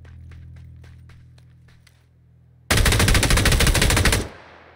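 Rapid automatic gunfire from the video game PUBG on Xbox Series X rips out in one loud, dense burst of about one and a half seconds, preceded by faint ticking clicks.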